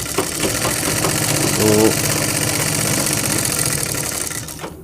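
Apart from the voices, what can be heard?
sewing machine stitching a blouse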